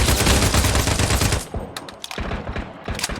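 Rapid automatic gunfire rattles loud and close in the Turkish shooter game Sabotaj, a dense continuous burst at first, then breaking into shorter, spaced volleys and single shots.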